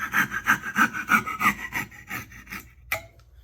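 A coping saw rasps back and forth through a wooden dovetail in about six quick, rhythmic close strokes, then stops, leaving a single faint knock.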